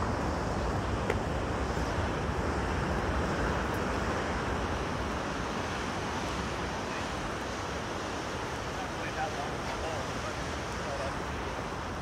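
Big ocean waves crash on a rocky Maui coastline as a dense, continuous roar of surf, with wind buffeting the microphone throughout.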